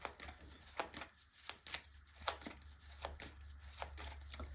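Tarot cards being shuffled by hand, a series of crisp riffling flicks at an uneven pace, close and fairly quiet, with no talking.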